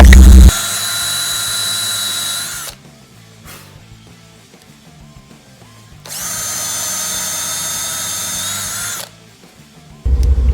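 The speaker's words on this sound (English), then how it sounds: "drill 2 countersunk holes on the back side" A power drill whines loudly at high speed in two long bursts, drilling countersunk holes in plywood, with a quieter pause between them and a clatter at the end.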